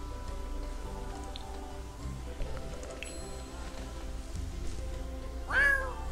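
A cat meows once in The Sims 4, a short rising-falling cry near the end over quiet game music and ambience.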